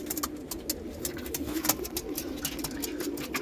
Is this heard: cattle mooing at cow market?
no